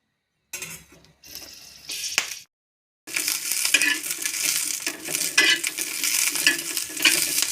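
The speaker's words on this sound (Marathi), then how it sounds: "आता मिरच्या भाजून घ्यायच्या आपल्याला आता" Green chillies roast in a pan with intermittent sizzling and scraping, starting in short bursts separated by silence, then settling into a loud, continuous frying hiss with utensil clinks.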